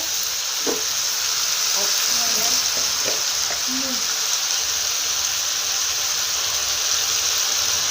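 Mixed vegetables for a vegetable pulao sizzle steadily in a pan over full heat, a constant loud frying hiss with a few soft clicks and stirring taps early on.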